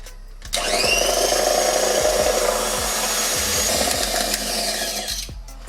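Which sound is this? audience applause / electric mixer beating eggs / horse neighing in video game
electric mixer beating eggs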